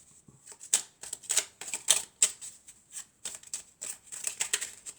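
Tarot cards being shuffled by hand: a run of quick, crisp papery riffles and slaps in uneven bursts, close and fairly quiet, with no talking.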